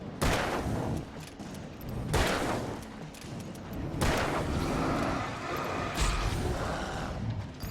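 Bursts of gunfire in the video game Alan Wake: several loud, sharp broadband shots spaced a second or two apart, each with a short decaying tail, over steady background game noise and no talk.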